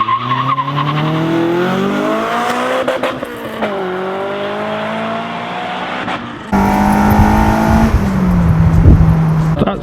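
A Honda Civic Type R EP3 with a Quaife LSD gearbox launches hard from a standstill, its engine wailing upward through the gears with a brief tyre chirp as it pulls away. Heard from outside the car.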